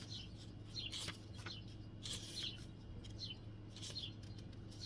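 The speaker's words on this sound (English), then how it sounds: "Can you hear the birds?" Small birds chirp in short repeated bursts over a low steady background hum, moderately distant and fairly quiet.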